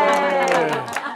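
A small group of onlookers on an outdoor outing in Monterey, California gives a short burst of clapping and cheering, the shouts and claps loud and close, over a strong harmonic voice-like drone.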